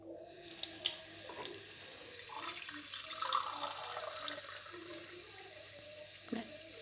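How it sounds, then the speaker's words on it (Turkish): Tap water running from a kitchen faucet into a cup for making plain Turkish coffee, a steady continuous pour close by with a few small clinks near the start and no talking. "Çeşmeden koyuyorum suyumuzu."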